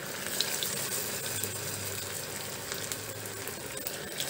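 Paneer pakoda frying in hot oil in a home kitchen, a steady, faint, even sizzle and crackle lasting throughout, with a low hum underneath and no talking.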